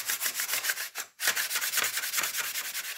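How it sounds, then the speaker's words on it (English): Balsa sheets on a Honker 250 model aircraft wing are being sanded flat where they join, giving a steady run of rapid rhythmic scratchy strokes with one brief pause. The sound is close and fairly quiet. "where these two sheets come together, you want to sand those flat"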